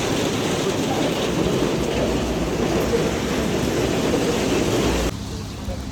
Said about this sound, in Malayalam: മഴ പിന്നെയും കൂടി.